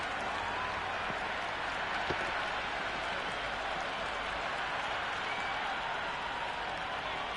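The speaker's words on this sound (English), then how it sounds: "Will you listen to that crowd? They are loving this." A cricket crowd at a T10 match roars and applauds after a big shot cleared the boundary. The cheering is a dense, steady wall of noise held at full level, with no clear voices above it.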